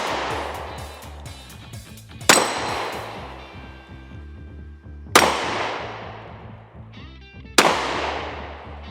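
Three loud, sharp reports from a Glock 20SF 10mm pistol firing Sellier and Bellot rounds, each crack spaced a few seconds apart and ringing out with a long decaying tail, close and alone.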